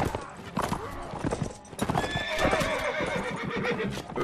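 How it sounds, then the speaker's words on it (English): Horses gallop with a dense clatter of hooves and neigh loudly in a Mount and Blade battle, with shouts and clashing combat noise mixed throughout. "guys on horses attacking my guys who are not on horses"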